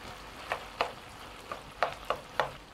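Red onion added to cooked meat sautés in a pan, a faint background sizzle punctuated by about six soft, well-spaced stirring scrapes.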